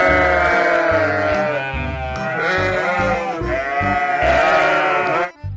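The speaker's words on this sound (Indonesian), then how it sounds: "eneng hewan domba" A sheep in the video game Jurassic World Evolution 2 bleats loudly and repeatedly in long, wavering cries that almost overlap, close and continuous, then cut off at the end.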